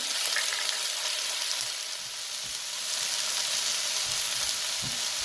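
Ginger and garlic sizzle steadily in a hot pan at close range, a bright continuous hiss with a few soft bumps of stirring and no talk.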